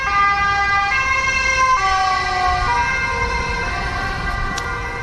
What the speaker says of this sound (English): We try not to scream over a siren going past there.